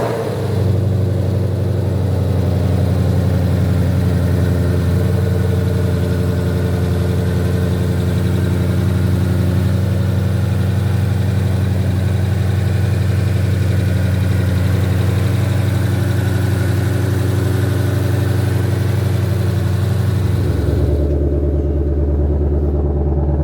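A 2022 Ford Mustang GT500 Heritage Edition idles steadily with a deep, loud, even rumble close by, holding for about twenty seconds before the engine cuts off near the end.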